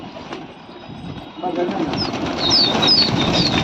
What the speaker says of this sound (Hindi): फिर से उड़ा दिया गया है दोस्तों कबूतर को